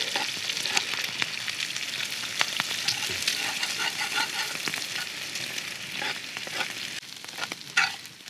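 Eggs, bacon and hash browns sizzle in a cast iron pan over a campfire, a steady close crackle and spatter with a few sharper pops and stirring scrapes, no talking.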